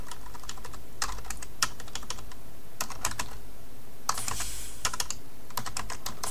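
Keys on a computer keyboard click in irregular bursts while text is typed for a Facebook photo album, with crisp taps close by over a low background hiss and no voices.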